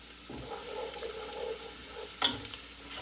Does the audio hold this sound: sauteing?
yes